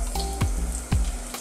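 Garlic sizzles in hot corn oil in a pan for Filipino ginisang upo, a continuous frying hiss broken by a few regular stirring scrapes.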